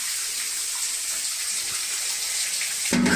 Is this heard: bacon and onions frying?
no